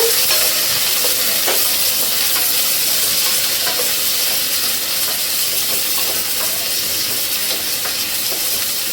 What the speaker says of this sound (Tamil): இப்போ எடுத்து வச்சிருக்கிற மூணு சின்ன வெங்காயத்தை போட்டுக்கலாம் நல்லா வதக்கிக்கோங்க